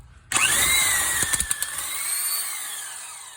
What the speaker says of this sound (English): I'm gonna finish drilling this one in so I can get the